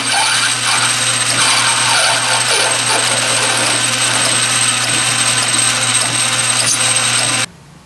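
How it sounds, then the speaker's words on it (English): A South Bend metal lathe facing off the second side of a small workpiece, running with a steady loud motor whine and cutting noise throughout before stopping abruptly near the end. "I'm on the second side, so I will face this off real quickly"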